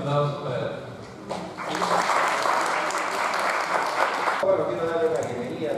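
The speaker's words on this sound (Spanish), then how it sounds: "Primero un aplauso para él." An audience at a university startup event applauds the rector, a burst of dense clapping that swells after talk, holds for a few seconds, then cuts off as speaking resumes.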